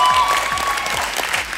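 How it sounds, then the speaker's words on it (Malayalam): An audience bursts into lively applause for a performance on a televised show, dense clapping with some crowd murmur in the background. "ഈ ഇരുവർക്കും നല്ലൊരു കയ്യടി"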